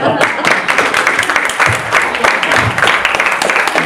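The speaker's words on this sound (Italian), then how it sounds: "applauso" An audience at a talk with an Italian comic artist breaks into loud, dense applause, many hands clapping steadily and close throughout.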